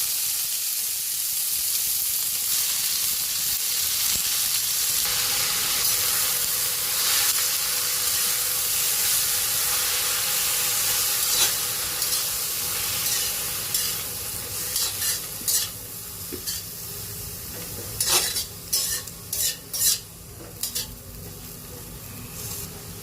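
Spinach sizzles and steams in a hot pan with garlic, a steady hiss under occasional scraping stirs, the stirring growing into sharper, sporadic clatters near the end; no voices.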